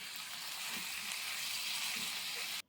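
Tomatoes fry in a pan for paneer butter masala, giving a soft, even sizzle that holds steady, then ends in a short clatter.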